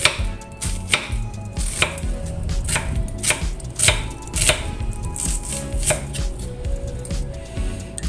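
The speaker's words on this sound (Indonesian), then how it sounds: "Satu butir bawang bombay boleh. Lalu kemudian iris seperti ini saja." A knife slices an onion on a cutting board, producing irregular crisp, close taps and thuds over a faint background hum, with no talking.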